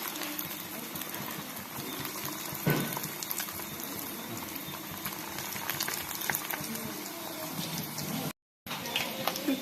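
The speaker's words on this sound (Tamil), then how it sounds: "பாருங்கள் இந்த மாதிரி ஒன்று ஒன்றா எண்ணெயில் போட்டுக்கலாம்." Chicken nuggets dropped into hot oil sizzle and crackle in a loud, continuous bubbling hiss, with scattered sharper pops and a brief gap near the end.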